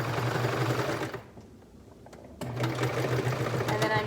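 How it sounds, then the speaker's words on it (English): A sewing machine runs along a cardigan hem with a steady, fast mechanical hum, stops for about a second, then starts again at the same close, even pace. "Just when I said it's sewing so smoothly and nicely, right at the end it broke a thread"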